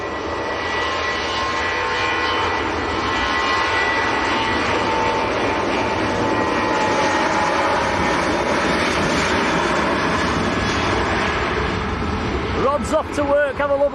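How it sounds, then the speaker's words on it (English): A Tui Boeing 737-800 jet airliner at Manchester Airport, bound for Reus, produces a loud, continuous engine roar lasting well over ten seconds, with a voice cutting in briefly at the very end. "Tui to Reyes, a 737-800 with Patricia's granddaughter on board"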